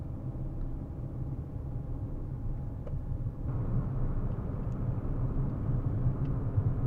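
A small Fiat climbs the steep Paddock Hill at Brands Hatch during the Festival Italia event, its engine a steady low drone that swells slightly louder midway and holds on, heard from a short distance.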